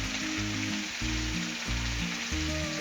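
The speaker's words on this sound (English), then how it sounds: "it ain't taking long at all for this bacon to cook" Bacon sizzles steadily in its own grease on a Blackstone griddle, a close, dense crackling hiss that runs without a break under background music.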